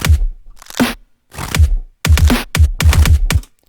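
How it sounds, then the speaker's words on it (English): Reverse crackles in a glitchy electronic track arrive as loud, close bursts of crunchy, crackling noise that swell and cut off abruptly, playing in a choppy, stuttering rhythm of short repeated hits. "Then we've got reverse crackles"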